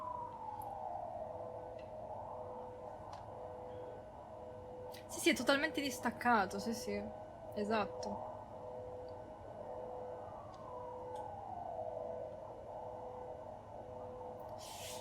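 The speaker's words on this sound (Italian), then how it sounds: "C'è un'ambulanza fuori." A wailing ambulance siren outside in the horror video game Silent Hill 4, its pitch sweeping slowly and fairly faint in the background while a person talks over part of it.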